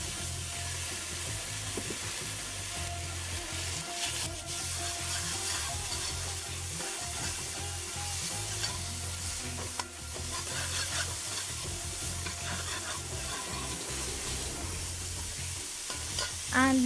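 Curry paneer frying in a Trinidadian-style pot as green seasoning goes in, giving a steady close sizzle with continuous spoon stirring and scraping throughout.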